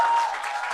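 Audience applause fills a lecture hall before a talk begins, a dense steady clapping from a crowd that stays loud throughout and eases only slightly toward the end.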